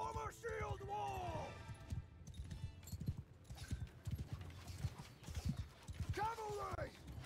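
Cavalry horses gallop in the video game Mount & Blade II: Bannerlord, rapid thudding hoofbeats in quick uneven rhythm, with neighs and whinnies rising over them, fairly faint, amid battle noise and voices.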